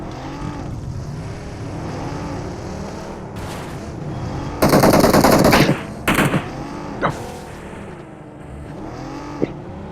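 Gunfire in a video game comes as a loud burst of rapid shots, then a few shorter volleys and single cracks over a constant background drone.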